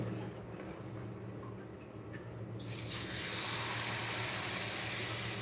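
Pumpkin chitoi pitha batter poured onto a hot, brushed griddle over a medium flame: a sudden loud hiss of sizzling begins a few seconds in and carries on steadily over a low background hum.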